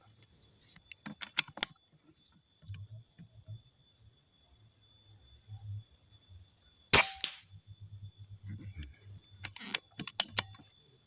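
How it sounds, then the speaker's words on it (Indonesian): A single sharp crack of a Marauder air rifle shot stands out midway, set among faint clicks, small handling noises and a soft background hiss. "Tembakan yang ke-9."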